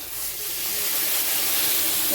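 Water poured into hot, well-fried spice paste for chhanar dalna bursts into a loud, continuous steaming hiss that swells and holds close up, with no speech.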